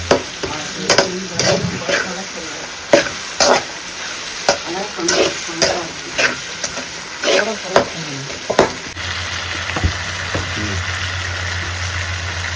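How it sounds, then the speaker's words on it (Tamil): Tomatoes, onions and garlic with turmeric and salt sizzle and fry in a pan for fish curry while a utensil scrapes and stirs in repeated bursts, then the stirring stops and a steady sizzle continues. "தக்காளி வெங்காயம் பூண்டு மஞ்சத்தூள் உப்பு போட்டு வதக்கிட்டேன்"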